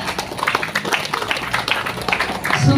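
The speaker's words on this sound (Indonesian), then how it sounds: "Berikan tepuk tangan kepada ketiga narasumber kita" An audience at a school PKK event claps for three speakers, a loose burst of hand claps close by, with a murmur of voices and rising noise at the end.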